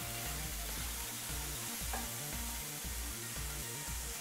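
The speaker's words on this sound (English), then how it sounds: "So you want to cook the onions until they are sort of see-throughy." Onions sizzle steadily as they fry in a pan, a continuous close crackling hiss with occasional stirring scrapes and no talking.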